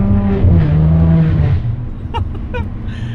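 A Ferrari 599 GTO's engine roars close by with a strong revving tone that shifts pitch, then gives way to a few short sharp bursts as the sound trails off.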